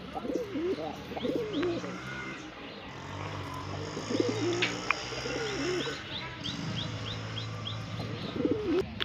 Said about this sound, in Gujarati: આ કબૂતર છે જે આપણે નવું લઈ આવ્યા।